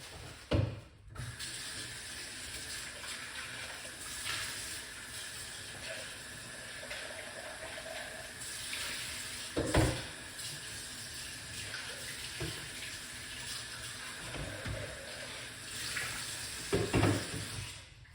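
Green apple, ginger, lemon and cucumber juice streams and trickles steadily through a strainer with a soft hiss, punctuated by a few clunks and knocks of containers being handled.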